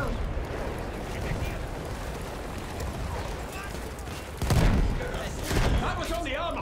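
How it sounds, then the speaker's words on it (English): Battlefield 1 gunfire crackles through a dense battlefield din, with sharp bursts of shots landing around 4.4 and 5.5 seconds over steady background noise and rumble. "Where am I getting shot at from?"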